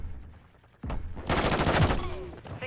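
Call of Duty multiplayer gunfire, heavy automatic bursts that kick in suddenly and grow louder into sustained rattling, close and dominant over quieter game announcer voices.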